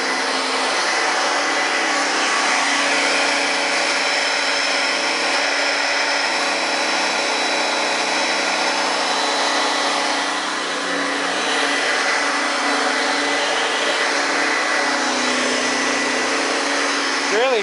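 A vacuum cleaner runs steadily on worn carpet, a loud continuous motor whine with a broadband airy rush that barely changes over the whole stretch.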